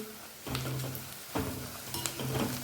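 Ground spices, chilli powder, garam masala, coriander powder and turmeric, sautéing in oil in a pan, a steady close sizzle with intermittent scraping stirs, no voices.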